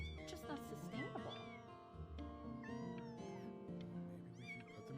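Cats meow repeatedly in the video game Before Your Eyes, the cries rising and falling over a bed of music, with speech mixed in.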